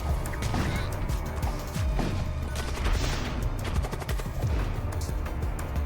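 An enemy ship firing multiple shots in the space game Void War: a busy stream of overlapping impacts, blasts and crashing hits, loud and continuous, with rapid rhythmic bursts layered over a rumbling background.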